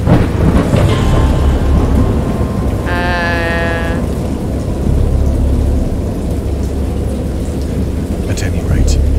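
Heavy, steady rain pours over a deep continuous rumble of thunder in H.P. Lovecraft's Dagon video game, with a short tonal cry rising above the storm near the middle.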